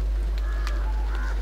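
Goose honking near a quarry pond in Kerala, a couple of short nasal honks rising over a steady low background hum, with no talking.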